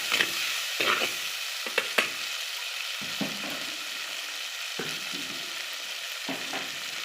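About 150 grams of tomatoes sauté with onion and garlic for a village-style vegetable sambar, a loud continuous sizzle broken by repeated scraping stirs of a spoon against the pan.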